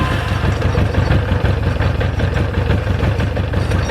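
A cold Yamaha Fazer FZX700 motorcycle fitted with an FZR1000 engine idles on choke with a loud, steady, throbbing rumble, close up and unbroken.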